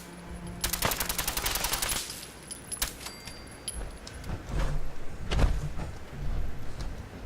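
Rapid automatic fire from the Spray and Pray gun in Fallout 4, a dense burst of shots up front, then scattered single cracks and short bursts with metallic clatter over the rest, moderately loud.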